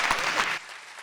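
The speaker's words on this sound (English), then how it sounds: "All right, let's give Stephanie a big round of applause." A brief burst of audience applause at a podcast mastermind event, loud for about half a second before cutting to faint room tone.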